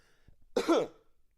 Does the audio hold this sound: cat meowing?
no